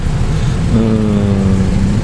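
A Yamaha Tricity 155 three-wheeled scooter accelerating up a hill, its engine note loud and close, rising steadily in pitch as it pulls with a rumbling drone throughout.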